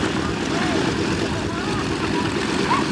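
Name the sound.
propeller aircraft flying at an airshow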